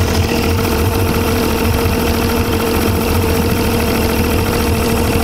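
Suzuki DT55 outboard motor idling just under 1000 rpm after carburettor adjustment, a loud, steady, close mechanical drone with even pulsing throughout.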